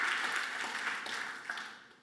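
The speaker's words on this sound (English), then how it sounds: "One round of applause for." Soft, diffuse audience applause at a talk about circular economy start-ups, heard faint and distant and fading out over about two seconds.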